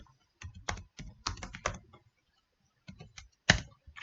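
Keys clatter on a computer keyboard in two quick bursts of typing separated by a short pause, close and clear, with no talk.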